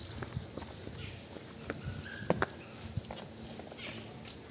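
A Murrah buffalo heifer is led to the feeding trough, its hooves clopping in an uneven walking rhythm on hard ground, close and fairly soft, with a faint steady background hum.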